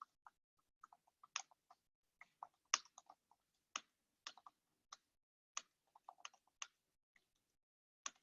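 Computer keyboard typed on in quick irregular bursts of sharp, close clicks with short pauses between them, quiet and with no talk over them.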